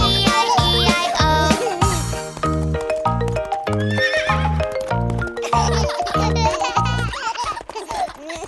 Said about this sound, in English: And on his farm he had a horse.